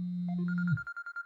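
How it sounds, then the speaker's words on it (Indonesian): A short electronic telephone ringtone in a horror video game set in an Indonesian village: a steady tone breaks into a quick pulsing trill of about six beeps, clear and close with no talking. "Ini telepon di game."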